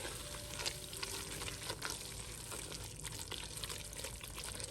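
Amaranth leaves are stirred and cooked in a pot, giving a faint, continuous soft sizzle with light scraping and rustling, and no talking.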